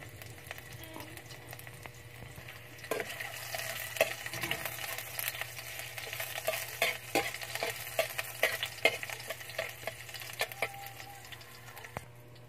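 Eggplant and misua noodles cooking in a pan, a steady sizzle under repeated scraping and clinking stirs of a utensil against the metal, close and continuous, with no talking.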